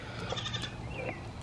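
Nigerian Dwarf goats bleat on a homestead, a few thin, wavering cries close by over a steady background hum, with no talking.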